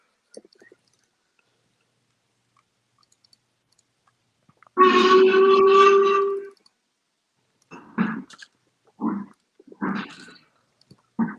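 A steam train whistle in a train simulator game gives one loud sustained blast of about two seconds in near silence, followed by several short, faint bursts of sound.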